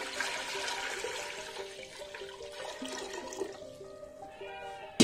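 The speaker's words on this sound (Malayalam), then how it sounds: "കുക്കറിലോട്ട് നമുക്ക് വെള്ളം ഒഴിച്ചു കൊടുക്കാം" Water runs from a tap into a pressure cooker in a home kitchen, a gentle steady trickle and splash lasting several seconds, ending with a sharp clatter.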